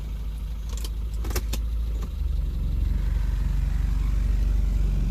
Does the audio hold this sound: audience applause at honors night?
no